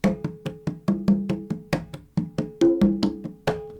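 A basic percussion beat on high and low drums, a steady run of about twenty sharp, close hits in an even rhythm, with some strokes ringing at a clear pitch. No talking.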